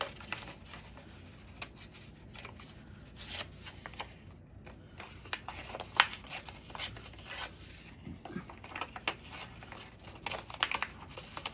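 Hands rip small book pages into smaller pieces for journal cards, giving close, faint bursts of tearing and crinkling paper in irregular short strokes with no talking.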